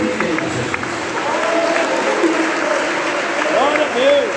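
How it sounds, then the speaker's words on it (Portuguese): Church congregation at a Pentecostal service clapping together, a steady dense wash of hand claps filling the hall, with sung or shouted voices and a sliding tone riding over it. "Desocupem as mãos, batam palmas e glorifiquem a Jesus."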